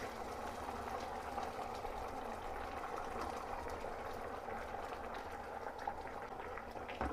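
Milk mixed with saffron simmers in a pot, giving a soft, steady bubbling and faint hiss that continues evenly throughout without speech.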